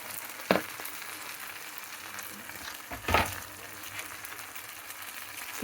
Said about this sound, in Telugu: ఇది మళ్ళీ తాళింపు పెట్టు బాగా వేయించుకుంటాను అన్నమాట.